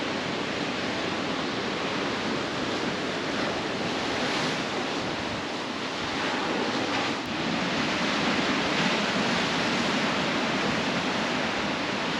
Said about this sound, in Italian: il suono dell'oceano.